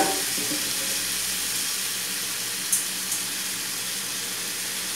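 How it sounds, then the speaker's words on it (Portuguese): Rice frying in a pan with golden-browned garlic, a steady soft hiss of sizzling throughout with a couple of brief faint clinks, no voices. "Já vou colocar o meu arroz aqui para dar uma fritadinha."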